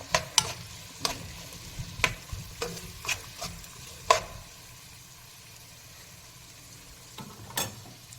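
Onions frying in a pan for chicken curry, with about a dozen sharp spatula scrapes and clacks at an irregular rhythm over a soft sizzle, then a quieter stretch of frying before a couple more stirs near the end.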